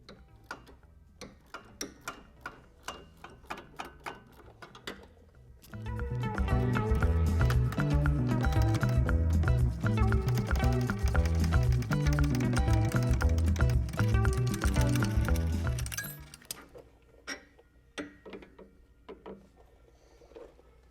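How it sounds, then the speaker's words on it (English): A regular hand ratchet loosening a lower sway bar link bolt on a 2021+ Ford Bronco Sport during a lift kit install, with scattered clicks, then a dense burst of rapid metallic ratcheting for about ten seconds, then sparse clicks again, close. "I'm just going to use a regular ratchet"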